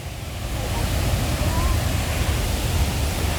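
Niludhan Falls in Dawis, Bayawan, Negros Oriental, a waterfall giving a dense, steady rushing roar, loud and unbroken for the whole stretch.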